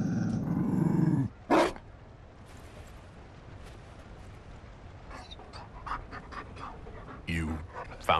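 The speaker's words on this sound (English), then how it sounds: "You found a dog?" A Mabari war dog in the video game Dragon Age Inquisition gives a loud, rough pant and growl at the start, followed by a short huff. Quieter sounds follow, with characters speaking over the rest of the scene.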